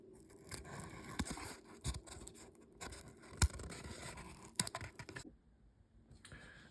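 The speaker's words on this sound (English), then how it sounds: "I just trace around the dime, cut them out with the scissors." Scissors cutting small discs out of traced material for a portable shotgun reloading kit, quiet close snips and scraping with a few sharper clicks, no talk.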